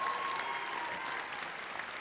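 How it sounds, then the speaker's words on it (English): An audience applauds contestants at a Miss Teen USA preliminary competition, a steady, dense wash of clapping filling the whole moment at moderate volume. "How about another round of applause for the contestants in their Emily Sue athletic wear?"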